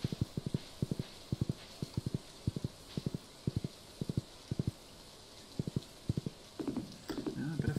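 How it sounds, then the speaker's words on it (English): Horse hooves clip-clopping in the farming video game Stardew Valley, crisp repeated steps in quick clusters with brief pauses, then a swell of rustling game noise at the end. "Get on horses."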